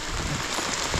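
Rain falls in a soft, steady hiss at a roadside stop during a Royal Enfield Classic 350 motorcycle ride, faint and brief, with no other sounds standing out.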